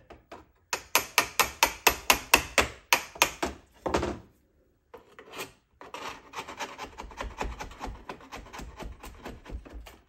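A scraper rasps very old putty off a wooden cabin window in a run of about a dozen sharp, rhythmic strokes, then a short pause and quieter, quicker scraping close by.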